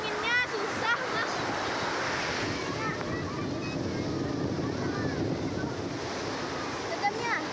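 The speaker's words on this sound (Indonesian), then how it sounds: "hati-hati. Ombak." Ocean surf rolls and washes onto Pasir Jambak beach in Padang under strong gusting wind buffeting the microphone, a continuous broad rushing roar with faint voices in the background.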